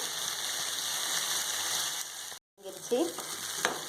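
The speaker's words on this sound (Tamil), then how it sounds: "இதை நல்லா வதக்கி எடுத்துக்கொள்ளுங்க. மூடி போட்டு வதக்கக்கூடாது, மூடி இல்லாமல் தான் வதக்கணும்" Spinach sautés in an open pan over low heat with a soft, steady sizzle and light stirring. A brief gap breaks the sound midway, and no one speaks.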